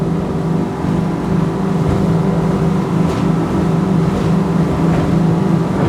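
Twin outboard engines on a Back Cove 34O motorboat roar steadily at full throttle in bumpy open water, with a constant loud drone, wind rush and hull slap throughout and no gaps.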